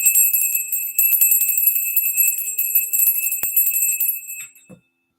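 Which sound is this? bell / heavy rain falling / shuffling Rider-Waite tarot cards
bell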